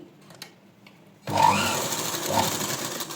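A sewing machine stitches blouse fabric with lining, starting abruptly after a few quiet handling sounds and running in a steady, close whirring hum.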